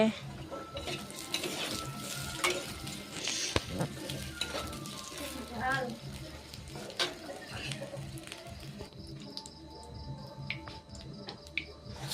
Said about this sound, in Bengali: তারপরে তেলের মধ্যে পেঁয়াজ দিয়েছি